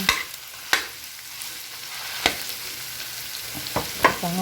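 Corned beef sautés in a pan with a soft, steady sizzle, broken by a few sharp clinks and scrapes of a spoon stirring and breaking up the meat.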